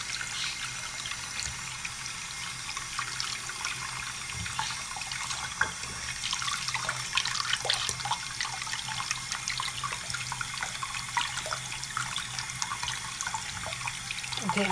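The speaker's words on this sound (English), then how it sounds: "Keep washing your hands right now." Tap water runs steadily into a sink during handwashing, a continuous hiss and splatter that holds for the whole stretch with small splashes on top, close and fairly loud, with no talking.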